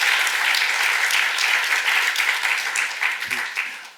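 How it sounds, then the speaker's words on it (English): An audience at a literary evening applauds warmly, dense, loud clapping from a full room holding steady before tapering off, with no speech over it. "Can I have a round of applause for all those lovely organizations as well?"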